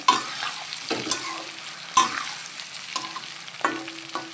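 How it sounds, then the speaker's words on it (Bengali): Potatoes seasoned with salt fry in a hot pan for a paneer biryani, a steady high sizzle broken by several sharp scrapes and clatters of stirring, close and loud with no voices. "আলুগুলো দেখো লাল লাল করে ভাজা হয়ে এসছে"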